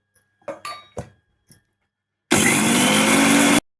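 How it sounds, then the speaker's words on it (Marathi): A kitchen mixer grinder whirs loudly as it blends garlic, ginger, coriander, coconut, sesame and peanuts into a paste, one steady burst of just over a second after a few soft clatters. "बारीक करून घेते आलं लसूण आणि कोथंबीर"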